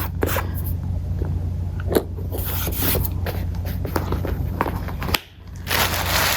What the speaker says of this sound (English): So I'm just gonna clean that off, but there's a little bit of dust in the flap.